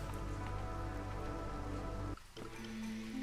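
Steady rain pattering over an ambient music bed in the city-building roguelike Against the Storm, continuous and moderately loud before the mix briefly drops out and resumes.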